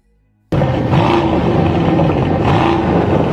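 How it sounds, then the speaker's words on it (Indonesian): An Aston Martin engine bursts in after a brief silence, a loud, deep rev that holds and swells again near the end, close and alone. "Setiap Aston Martin dikenal punya suara mesin yang dalam dan menggelegar, disebut-sebut sebagai musik bagi para pecinta mobil"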